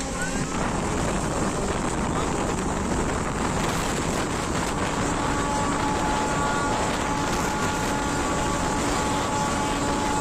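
A Howrah to Ghatshila MEMU train runs at speed, giving a loud, constant roar of wheels and rushing wind close to the microphone, with no breaks in the noise.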